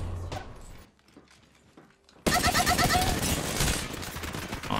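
Sustained automatic gunfire in the video game Apex Legends, a loud dense burst of rapid shots beginning abruptly after a quiet stretch and continuing steadily to the end.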